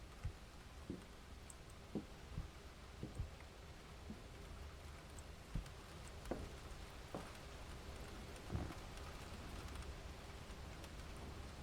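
Torrential rain falling in the game Ten Bells, a steady dense hiss with scattered faint drips and taps, distant and even throughout.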